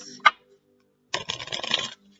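A deck of tarot cards being shuffled nearby: one short sharp riffle snap, a pause, then about a second of dense papery flicking and rustling, with no voices.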